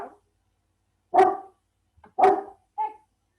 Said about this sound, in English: You guys hear that? Just like barking.